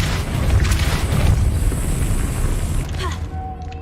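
A Confringo spell blast in Hogwarts Legacy lands as a loud, booming burst that rumbles for a few seconds, then drops into a brief metallic chime as it fades.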